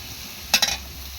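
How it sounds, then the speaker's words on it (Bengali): Onions frying with garlic-ginger paste in a pan give two quick, close scraping stirs with a faint sizzle, standing alone against a quiet background. "বেশ ভালোভাবে লাল লাল করে ভেজে তার উপরে রসুন আদা বাটাটা দিয়ে ভালোভাবে কষে নেব।"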